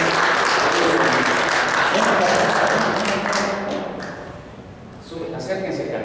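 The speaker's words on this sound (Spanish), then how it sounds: "un aplauso para tu papá" Applause from guests at a quinceañera celebration, a dense wash of clapping with people talking over it, fading a little toward the end before picking back up.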